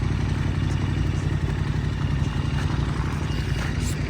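A sport-type motorcycle engine idles nearby in a steady, even low rumble with a faint mechanical clatter, holding constant throughout with no voices.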